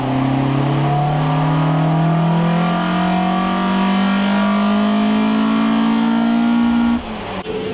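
A Ford Escort Mk1 engine runs at full throttle in a dyno cell, a loud, close, rising mechanical roar as revs climb steadily for about seven seconds before it abruptly cuts off.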